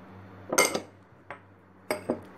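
Spoon clinks against a bowl while garlic, chili, vinegar, lemon and spices are mixed into a dressing, heard as a few sharp, close clattering bursts separated by quiet pauses.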